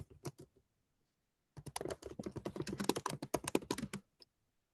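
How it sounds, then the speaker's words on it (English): Fast typing on a computer keyboard: a few clicks, a pause of about a second, then a dense, rapid burst of keystrokes that stops abruptly, heard close and alone. "Oh, you're a fast typer."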